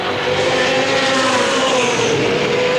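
Race cars circling Motordrome Speedway during a racing show, a loud continuous engine roar with sustained droning tones that shift slightly as the pack passes, no voices audible over it.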